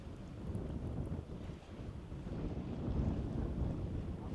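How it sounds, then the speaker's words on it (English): Steady wind gusting across an open Scottish fishing spot in the evening, a continuous low rushing roar buffeting the microphone, swelling slightly toward the end with possible water and boat noise beneath. "Wind's picking up a little bit."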